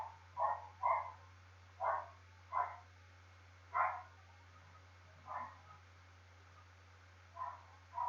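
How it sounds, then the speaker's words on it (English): A dog barks in the distance at a camp, sending out about eight separate woofs at uneven intervals over a steady low hum, with no one talking. "sorry, it's just my dog barking."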